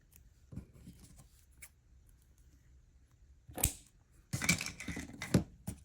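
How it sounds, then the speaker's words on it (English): A few quick, crisp snips of scissors cutting, close and fairly quiet, in short bursts separated by near silence. "So I'm just going to take my scissors."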